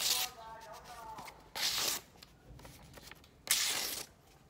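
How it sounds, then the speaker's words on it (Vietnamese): An 80CrV2 steel knife slices through paper in three quick, crisp swishing cuts, each a short rasping burst separated by quieter pauses, heard up close. "các bác có thể nghe tiếng cắt giấy để biết được độ sắc"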